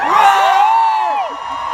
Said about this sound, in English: can we have a big cheer for the Connor Army again?